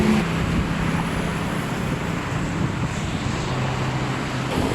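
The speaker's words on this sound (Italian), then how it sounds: "lo sentite il rumore delle macchine che c'è." Steady traffic roar of cars around the Chao Phraya Sky Park in Bangkok, a continuous broadband wash of road noise with low engine hum, fairly loud and unbroken, no talking.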